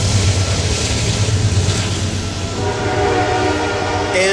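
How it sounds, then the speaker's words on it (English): A train rumbles past loud and close beside an outdoor Tax Day rally crowd in Cincinnati, a steady low roar with a sustained horn tone running through it, holding from start to end. "And we'll wait till the train passes."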